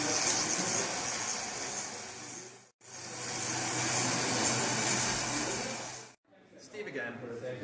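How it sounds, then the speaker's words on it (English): A high-wattage dryer blows hot air over a weld sample, a steady whooshing roar that cuts off briefly twice, with a voice speaking faintly near the end. "This is a high watt dryer."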